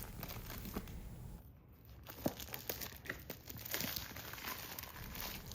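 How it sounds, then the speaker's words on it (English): Plastic wrap crinkles and tears as it is peeled off a GMKtec NucBox G2 Plus mini PC, giving close, steady rustling with scattered sharp crackles and brief rips, fairly quiet throughout with no talking. "Finally got that plastic wrap off."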